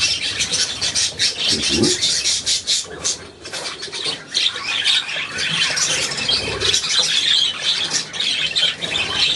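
A pet budgerigar squawks and chatters continuously at close range, with harsh bursts and fluttering, while a person murmurs briefly.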